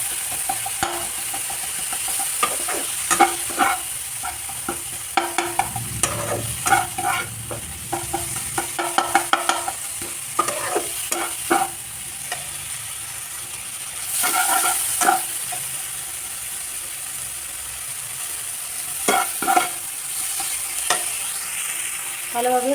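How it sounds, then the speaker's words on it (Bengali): Sidol (fermented dried fish cakes), vegetable stems and potatoes are sautéed in a pan, with a continuous sizzle broken by frequent sharp spatula scrapes and taps as the mixture is stirred. "ভালোভাবে কষাতে হবে ওইগুলোকে"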